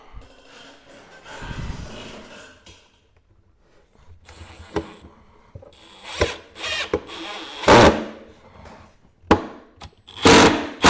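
Power drill driving screws into a wooden workbench, several short whirring bursts of the motor with pauses and handling noises between them, fairly close and loud.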